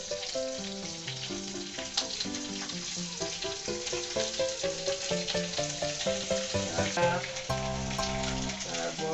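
Curry leaves frying in hot oil for a Bengali potato curry, a dense, steady sizzle with crackling pops, close and loud, over soft background music.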